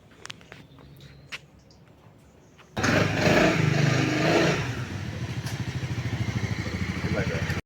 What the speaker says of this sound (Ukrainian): Едем сьогодні з ветерком в університет на мотоциклі.